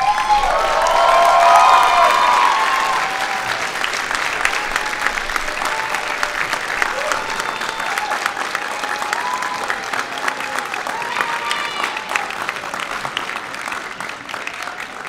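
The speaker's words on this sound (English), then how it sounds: "turn around and applaud all the people who have helped you to be here" The medical school class of 2017 at its commencement applauds the people who helped them, sustained dense clapping from a large crowd that swells loud at first, then settles into a steady, even roar of applause.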